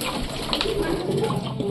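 Pigeons in a cage coo softly and continuously at close range, low murmuring calls over a light background hiss.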